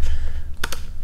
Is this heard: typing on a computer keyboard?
yes